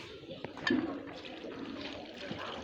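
Ginger being rinsed in water, a faint steady splashing and trickling with a small slosh near the start.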